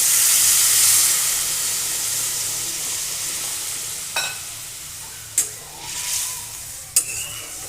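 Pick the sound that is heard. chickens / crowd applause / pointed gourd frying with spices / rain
pointed gourd frying with spices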